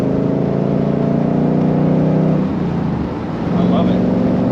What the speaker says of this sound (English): Top down, the V8 sounds so good.